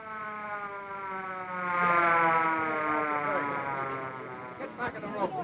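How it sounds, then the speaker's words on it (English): An ambulance siren wails in a steady, rising and falling electronic tone from a 1938 film soundtrack, fairly loud and sustained, with a brief burst of scuffling noise near the end. "it's just an ambulance"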